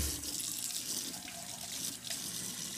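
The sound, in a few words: water running from a tap for washing wool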